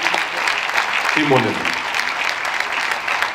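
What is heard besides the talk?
audience applauding at New Year's greetings ceremony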